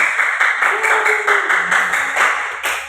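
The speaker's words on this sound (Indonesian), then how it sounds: "Oke, tepuk tangan." A sixth-grade science class claps together in a steady rhythmic pattern of repeated beats, fairly near and even in loudness, with a faint voice in the background.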